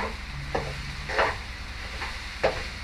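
Soft sizzling of fish frying in a pan, with a few brief scraping stirs and clinks at intervals; no voices.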